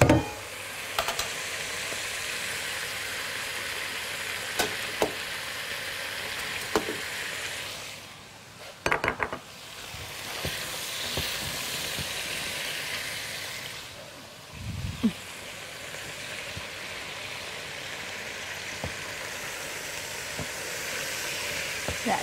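Meat sizzling in a pot for a Libyan soup, a steady close frying hiss with occasional clinks and stirring knocks.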